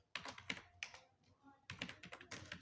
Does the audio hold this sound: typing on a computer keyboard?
yes